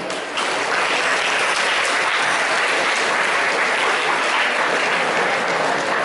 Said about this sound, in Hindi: कृपया तालियां बजाइए।